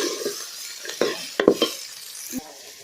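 Ginger and masala sauté in a pan for country chicken curry, a soft sizzle under a few sharp spoon scrapes and taps against the metal at an irregular pace.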